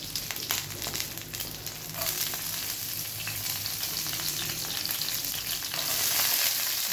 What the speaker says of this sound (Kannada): ಸಾಸಿವೆ ಹಾಕೋಣ, ಕರಿಬೇವು, ಈರುಳ್ಳಿ,